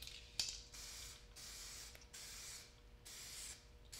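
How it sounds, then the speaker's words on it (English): Aerosol sealer coat sprayed onto a fish taxidermy mount in repeated hissing bursts of about half a second to a second each, close and steady, with short pauses between them and no talking. "Okay, now I'm going to give him a heavier spray."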